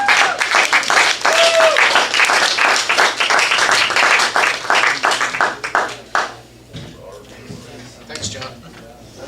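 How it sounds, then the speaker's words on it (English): Audience at a comedy open mic in a brew house gallery claps loudly for a comedian, dense applause fading out after about six seconds, followed by scattered quieter claps and talk. "Clap it up for him."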